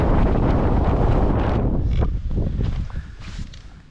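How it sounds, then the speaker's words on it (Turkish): Strong wind on a mountain climb on Gezit Mountain, Adana, buffeting the microphone in heavy, roaring gusts that ease off toward the end. "Rüzgar bizi yine zorlamaya devam ediyor."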